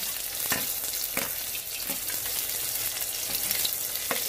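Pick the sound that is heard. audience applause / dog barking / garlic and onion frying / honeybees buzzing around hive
garlic and onion frying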